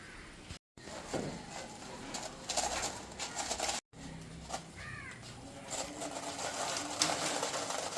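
Diamond doves in a home bird cage give soft cooing calls amid light rustling and handling noises, with brief dropouts and a short clear call near the middle.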